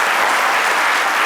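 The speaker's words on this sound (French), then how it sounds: "Ça s'applaudit quand même." An audience bursts into dense, steady applause at full volume, the clapping continuous and unbroken throughout.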